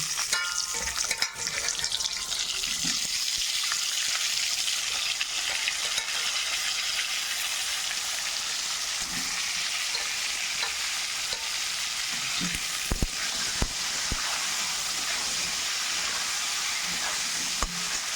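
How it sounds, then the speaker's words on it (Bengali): Cut potato pieces fry in hot oil, a steady dense sizzle with bubbling hiss running the whole way through, close and fairly loud, with occasional clicks of stirring and no talk. "তেলের মধ্যে আমি আলু পিস পিস করে কেটে রেখেছি, ফুলকপি কেটে রেখেছি, এটা আমি তেলে দিয়ে ভাজা করব।"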